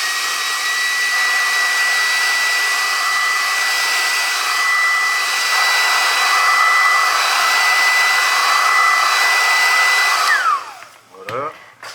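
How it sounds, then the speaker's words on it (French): A hair dryer blows steadily on decals on a 1/24 scale Honda S2000 model car, a loud continuous whir with a whining tone for about ten seconds, then switching off into brief handling noises. "ça va faire un petit peu de bruit, un petit coup de sèche-cheveux."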